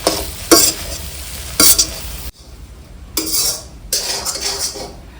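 Tomato egg rice is mixed in a hot pan, with loud metal clanks and scrapes from a spoon in separate bursts over a steady frying sizzle.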